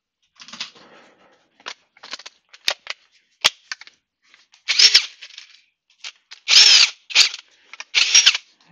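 A Ryobi One+ cordless power tool whirring in short, uneven bursts, starting and stopping repeatedly with sharp clicks in between, close and loud.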